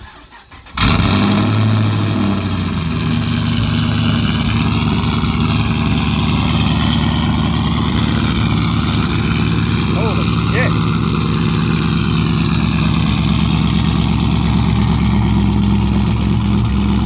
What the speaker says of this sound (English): Gonna do a quick cold start. It is fucking loud.